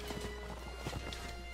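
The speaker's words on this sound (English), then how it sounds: "My horse is like, dude, we're running downhill" Hooves clip-clop in a quick, rhythmic gallop as a horse runs downhill in Mount & Blade: Warband, close and steady across a short stretch with no talking.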